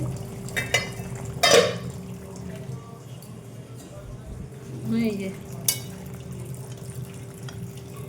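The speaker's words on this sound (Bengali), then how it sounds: "এই মাছের ঝোল ফুটছে।" Fish curry bubbles in a pot on a home stove with a soft, steady simmer, broken by a sharp clatter of a utensil and a few light scrapes and knocks against the pot.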